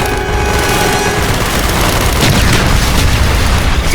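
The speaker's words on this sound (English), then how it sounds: "Firing mortar!" Mortar fire and heavy battle noise from Call of Duty: Black Ops make a loud, dense, continuous roar of blasts and gunfire with no pause across the whole stretch.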